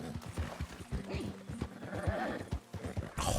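An agitated horse in Red Dead Redemption 2 stamps and shifts with quick, uneven clip-clopping hooves and restless snorting whinnies, close up over a steady game soundscape.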